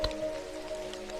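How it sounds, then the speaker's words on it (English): Rain falling with soft raindrops landing, a gentle steady patter close by, alone with no voices and a faint tonal hum beneath. "I feel every raindrop as it lands, creating a soft, clear sound"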